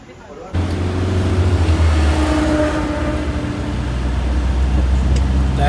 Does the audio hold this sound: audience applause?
no